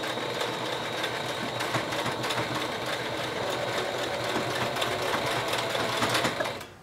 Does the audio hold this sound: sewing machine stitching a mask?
yes